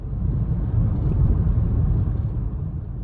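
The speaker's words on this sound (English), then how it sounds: "there was too much engine noise." A 2016 Acura MDX Tech AWD SUV on the road, its engine holding a steady low drone blended with tire and road rumble inside the cabin, continuous and even with no speech.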